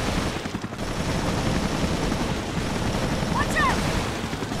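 Rapid automatic gunfire in Resident Evil Revelations, a dense continuous roar of shots with rumbling blasts filling the whole stretch.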